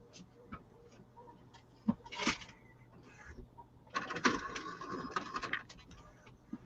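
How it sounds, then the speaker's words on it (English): A mechanical printer whirs and clatters in bursts, with a sharp click or two between, faint and in the background of a quiet room. "My printer is making that noise."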